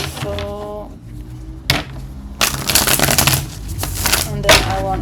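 Rapid riffling tarot card shuffles in bursts close by, with a brief voice murmur at the start and some background noise.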